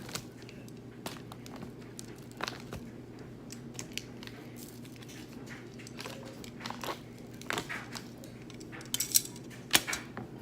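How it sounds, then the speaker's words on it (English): Metal tongs clink and tap against a pan while food is turned, giving scattered light metallic clicks over a low sizzling hum, close by with no talking. "we're gonna use our tongs to flip those over"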